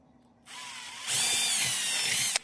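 A close power drill spins up, then runs loud and steady at full speed for over a second before cutting off, drilling a hole in a Boba Fett helmet.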